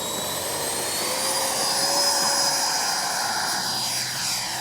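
A Freewing F-22 RC jet spools up for takeoff with a loud, steady high-pitched ducted-fan whine whose tone rises and shifts, close and alone.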